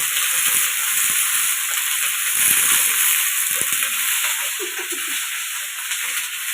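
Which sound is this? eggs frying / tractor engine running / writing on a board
eggs frying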